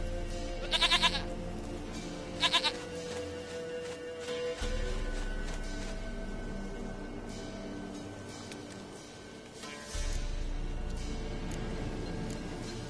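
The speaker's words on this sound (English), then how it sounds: "Goat of mine, dearest," A goat in The Witcher video game gives two short, nasal bleats in the first few seconds, then a steady ambient hum continues, swelling and dipping.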